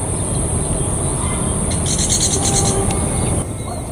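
A train from Pasar Senen carrying baggage cars rolls past at an Indonesian railway spot near Kroya, a loud continuous rumble and rattle of wheels with a high steady whine above it and brief metallic squeals.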